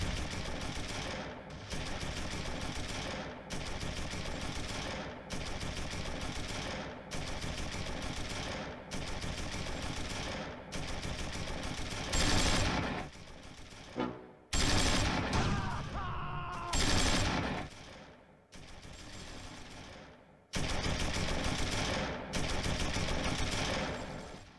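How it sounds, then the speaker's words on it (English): Tank and infantry gunfire trade back and forth in the Close Combat 3 wargame on the Russian Front, a Panzer 35T firing on light infantry in snow, with dense repeated bursts of loud, continuous fire and engine noise, briefly broken by sharper blasts. "The light infantry hold position. The Panzer 35T has line of sight. Both sides open fire around the same time."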